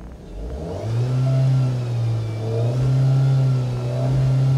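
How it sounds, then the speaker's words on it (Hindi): A Mahindra Thar petrol engine revs while standing still, a steady loud droning hum that rises and holds, with no voices over it. "एट अ स्टैंड स्टिल आप इस महिंद्रा थार पेट्रोल इंजन को रेव कर सकते हो टिल 4000 आरपीएम।"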